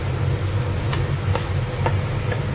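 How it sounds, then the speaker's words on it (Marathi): Okra bhaji with crushed peanuts being stirred in a pan over a medium flame, giving a steady close sizzle broken by a few brief scraping strokes of the spoon. "आपल्याला हे मिश्रण आता हलवून घ्यायचंय सगळं।"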